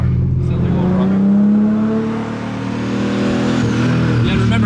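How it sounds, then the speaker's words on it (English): A rusty BMW E36 drift car running on pump gas and wastegate pressure revs its exhaust loudly and continuously up close, a steady droning note that rises, dips briefly, then climbs again. "the exhaust note is very, very different"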